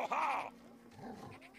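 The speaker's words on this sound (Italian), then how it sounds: "E adesso viene il cane, perché il bambino sta giocando con lui." A dog in the video game Last Day of June gives a short whimpering whine, then softer panting and movement sounds as it approaches, close and fairly quiet.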